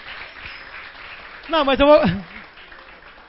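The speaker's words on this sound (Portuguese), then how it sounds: "Meu slide bate palma para mim" Applause sound effect played from a presentation slide during a lecture on basic sanitation regulation, a soft, steady patter running beneath a speaker's voice throughout.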